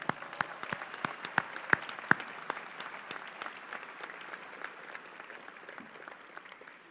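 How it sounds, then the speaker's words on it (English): Audience at a medical school white coat ceremony applauds faculty and staff, sharp individual claps standing out at first before merging into dense, continuous clapping that slowly thins and fades. "Turn over that way and give them a round of applause"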